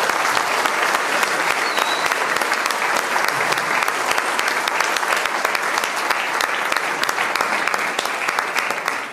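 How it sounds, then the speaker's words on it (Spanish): Loud, sustained applause from a large congregation at a quinceañera church ceremony, steady dense clapping throughout with no speech over it. "Recibámosla con un fuerte aplauso"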